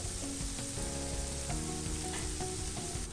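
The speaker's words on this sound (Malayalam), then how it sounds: "ഇഞ്ചിയുടെയും വെളുത്തുള്ളിയുടെയും പച്ചക്കുത്ത് മാറിയതിന് ശേഷം നമുക്ക് കുറച്ച് കറിവേപ്പില ഇട്ട് കൊടുക്കാം." Curry leaves sizzle in hot oil alongside ginger and garlic for a Kerala-style pearl spot dish, a steady close frying hiss with small crackles and tonal clatter throughout, no talking.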